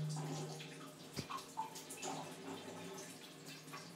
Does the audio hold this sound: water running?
yes